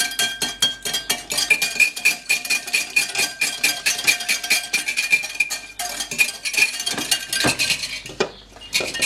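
A whisk beats the ingredients for homemade mayonnaise, including vinegar, in a bowl, making loud, rapid, rhythmic metallic clinks and scrapes against the bowl that go on without a break.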